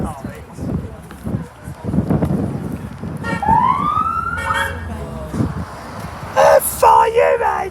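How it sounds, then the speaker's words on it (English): A fire engine siren wails and rises in pitch amid loud crowd chatter and street noise in Bournemouth, heard from a sightseeing bus, then sounds again in warbling bursts nearby. "there's a fire coming"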